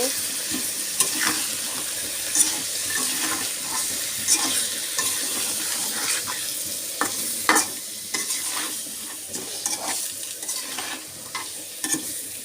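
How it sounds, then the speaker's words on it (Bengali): Chili powder, turmeric powder and salt being gently stirred into hot oil in a pan while fish cooks, with a continuous sizzle broken by regular scraping and clinking strokes of a spoon, close and without talk. "মরিচের গুঁড়া হলুদের গুঁড়া স্বাদ মতো হচ্ছে লবণ এখন আমি আলতোভাবে এগুলো নাড়াচাড়া করে দিব"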